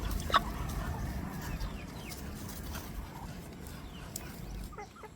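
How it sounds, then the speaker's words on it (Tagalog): Rhode Island chickens, a mix with native Bisaya stock, cluck in short scattered bursts on a morning farm, with a sharper call near the start and steady low background rumble throughout. "Ito yung mga manok natin, oh."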